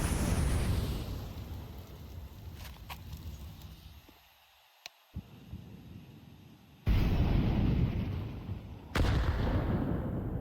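A grenade blast in a Counter-Strike match: a heavy, rumbling boom fades into a lull, then more loud explosive bursts and gunfire-like cracks follow.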